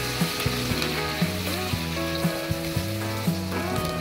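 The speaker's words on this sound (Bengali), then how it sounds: "1 কাপ পেঁয়াজ বাটা দিয়ে দিলাম।" A cup of onion paste sizzles in the oil left from frying koi fish, a soft steady crackle heard beneath prominent background music.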